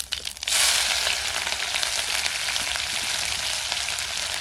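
Cumin seeds and fresh green chillies drop into hot oil for tempering potatoes, setting off a sudden loud sizzle that settles into a dense, steady crackling hiss close by; no speech.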